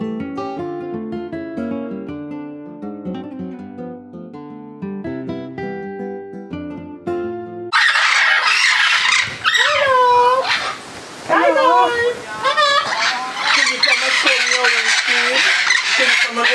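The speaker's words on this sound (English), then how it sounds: "we are looking at the National Bird of St. Vincent and the Grenadines, the Amazonia Gildingi" A St. Vincent parrot, Amazona guildingii, gives loud, harsh squawks and warbling calls in repeated bursts, close by, following a stretch of unrelated tonal music.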